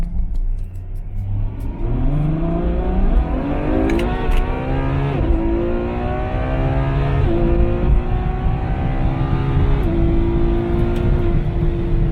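A Ferrari 488 sports car engine revs hard nearby, climbing in pitch through several gear changes as it accelerates, loud and continuous.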